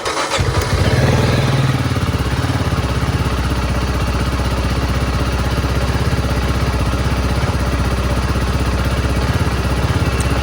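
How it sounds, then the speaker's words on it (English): A Beta Alp 4.0 dual-sport motorcycle engine cranks and fires up, then settles into a steady, close, loud idle that runs on alone. "I'm going to have to start the bike."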